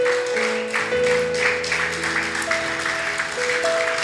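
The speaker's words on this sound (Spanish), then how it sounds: "Dele un fuerte aplauso a Jesús en esta hora." A church congregation applauds during a worship service, steady massed clapping over sustained keyboard or organ chords that shift pitch, moderately loud and continuous throughout with no voice.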